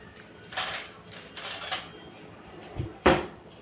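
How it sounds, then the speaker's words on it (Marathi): Spoon stirring vermicelli in a pot of boiling water, a few scattered metallic clinks and scrapes against the vessel, close and moderately loud, with quiet gaps between them. "चमचीच्या सहाय्याने हलवून घेऊ"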